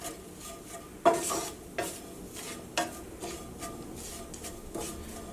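Coriander powder roasts in a pan for a soya chunks curry, with several spaced scraping strokes of a spoon against the pan over a low background sizzle.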